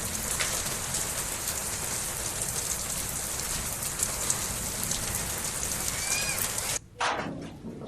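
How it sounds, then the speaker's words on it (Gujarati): Rain with hail falls at Jatavada in Rapar, Kutch, as a dense, steady hiss of drops hitting surfaces, continuous and fairly close, then cutting off briefly near the end, with no talk. "ઝરમર વરસાદની સાથે કરા પડ્યા"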